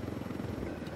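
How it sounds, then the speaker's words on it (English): An aircraft in the video game Ghost Recon Wildlands passes overhead, a loud, rapidly throbbing engine drone with a choppy, rotor-like beat that fills the whole moment. "Hey, look at that plane. Isn't that cool?"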